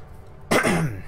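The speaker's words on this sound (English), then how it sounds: "He says as he casually coughs, not attention seeking." A single sharp cough from a man bursts out after a moment of quiet, close and loud, with a short throaty tail.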